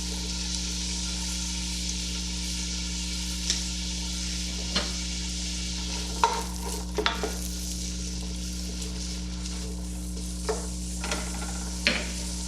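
Onions frying in melted bacon and butter for clam chowder give a steady close sizzle, broken by a few sharp clicks and scrapes of stirring, with no talking.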